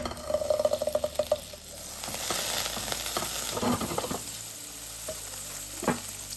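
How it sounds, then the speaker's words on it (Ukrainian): Onions sizzle and crackle steadily in a hot pan of butter and vegetable oil, with occasional stirring clinks and scrapes. "Нашу цибулю ми смажимо на вершковому маслі з додаванням звичайної олії."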